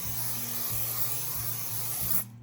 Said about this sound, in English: I'm just going to use my 505 spray again